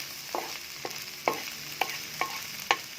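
Stirring mie goreng ayam, Indonesian fried noodles with chicken, in a wok: about six distinct scraping strokes at a loose, even pace over a soft sizzle, no voices.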